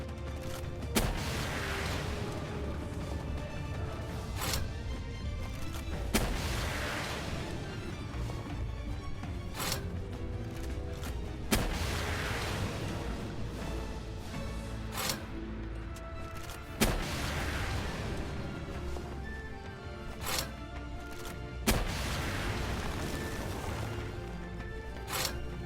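Rocket launcher blasts in the video game Palworld, heavy booming explosions about every five seconds over a constant rumbling game soundscape.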